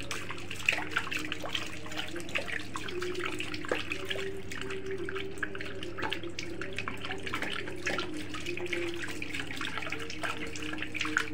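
A German Shepherd laps water from a container in rapid, splashy, continuous strokes, heard up close with no voices.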